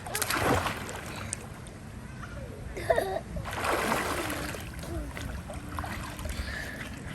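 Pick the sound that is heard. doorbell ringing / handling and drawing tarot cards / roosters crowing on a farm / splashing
splashing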